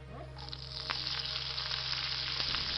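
Loud, steady sizzling of curry leaves dropped into hot oil, a dense continuous crackle with a few sharp pops, no voices.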